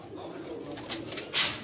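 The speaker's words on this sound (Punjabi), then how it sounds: "ਜਿਹੜੇ ਕਬੂਤਰਾਂ ਤੁਸੀਂ ਸ਼ੌਕ ਕੀਤਾ ਨਾ ਉਹ ਇਹ ਸਨ ਸਾਰੇ" Pet pigeons of fancy breeds cooing nearby in a loft, a short soft low coo with a brighter rustle or call near the end.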